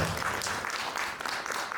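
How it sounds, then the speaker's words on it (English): A round of applause from an audience after a talk at a film screening in London, heard as a short stretch of dense clapping at moderate volume. "Have a round of applause for her as well."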